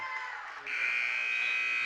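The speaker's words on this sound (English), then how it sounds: "Gorman for 3 at the buzzer" End-of-quarter buzzer at a high school basketball game in a gym, a loud, steady electronic tone that cuts in over crowd noise and holds to the end.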